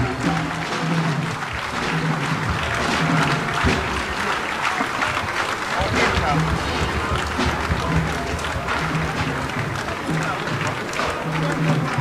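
Audience applause at a lecture by a professor, a dense continuous clapping from a crowd lasting the whole stretch, with a voice speaking over it at intervals.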